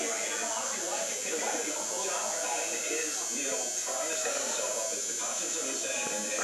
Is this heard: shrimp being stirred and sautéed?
no